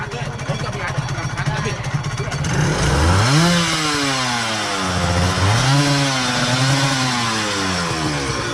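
A nearby two-stroke, two-cylinder motorcycle engine buzzes at idle, then revs up sharply several times in rising and falling whines, with voices underneath.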